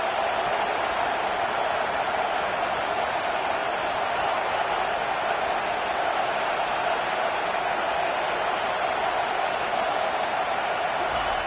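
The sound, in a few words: home crowd noise at a football game on 3rd down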